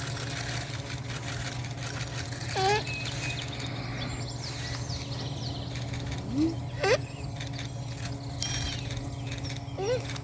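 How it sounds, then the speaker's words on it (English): Several short, sharp blue jay calls ring out at intervals over a steady low engine hum, each call a quick harsh note standing out clearly. "I just heard a blue jay."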